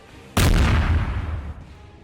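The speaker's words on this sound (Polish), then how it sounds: "Zaraz kurna co to był za wybuch" A single loud, deep cartoon explosion boom hits suddenly and rumbles away over about a second, close and heavy, with no voices.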